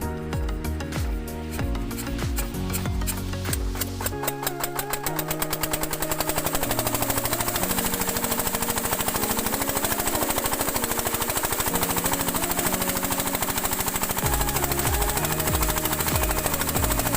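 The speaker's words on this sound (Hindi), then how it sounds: "चलता हूँ, इंजन स्टार्ट करता हूँ।" Irrigation pump engine on a village farm field starts up with rapid sputtering bursts, then settles into a loud, steady mechanical chugging that runs close and continuous, with no talk over it.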